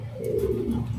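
A pigeon coos close by, one low throaty rolling call lasting about a second with no other voices.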